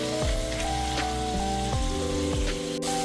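Cubes of capsicum and onion stirred and sizzling in a hot kadai for a capsicum paneer butter masala, a steady frying hiss with soft repeated scraping strokes, no talking.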